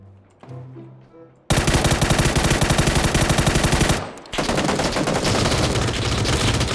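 Rapid automatic gunfire in the PUBG Battlegrounds video game: a long, very loud continuous burst, a brief break, then a second sustained burst, close and dominant after a quieter start.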